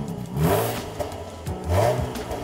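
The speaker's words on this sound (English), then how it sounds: "it is the unique sound of a uniquely tuned supercharged V6, exhaling with all of the crackling, popping, and snorting that you'd like." Supercharged V6 in a 2019 Jaguar F-Type, with a loud exhaust, gives two quick revs, each swelling and then falling away, with a faint crackle in between.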